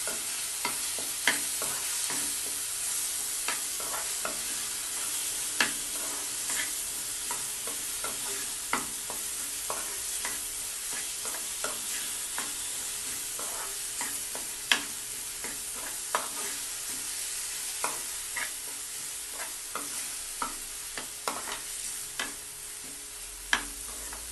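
Vegetables sautéing with salt in a pan for pasta, a continuous close frying sizzle punctuated by frequent sharp spoon clicks and scrapes, no talking.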